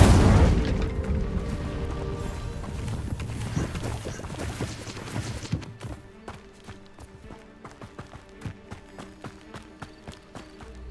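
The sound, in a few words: Incendio fire spell in Hogwarts Legacy video game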